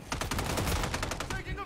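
Rapid automatic gunfire in Call of Duty Modern Warfare III, a fast burst of evenly spaced shots at close range that fills the short moment, with radio chatter faintly underneath.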